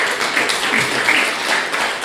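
Dense crowd applause, a continuous wash of many hands clapping at once, fairly loud and with no pauses throughout.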